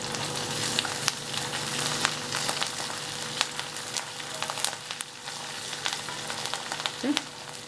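Curry leaves hit hot oil in a pan for semiya kichadi, a continuous crackling sizzle with scattered pops and a brief sharper spatter near the end, no voices.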